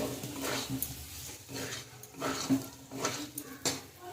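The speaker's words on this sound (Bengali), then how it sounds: "সিদ্ধ করা আলুগুলো দিয়ে দেবো আলুগুলো দিয়ে বেশ কিছুক্ষণ কষাবো" Boiled potatoes are sautéed in a pan for aloo dum, with a spatula scraping and clattering against the metal in repeated strokes, fairly close and moderately loud.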